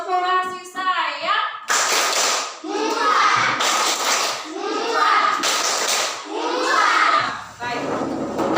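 Classroom of children standing up for a rhythmic group clap led by a teacher, bursts of clapping mixed with loud children's voices chanting and shouting along, close and lively.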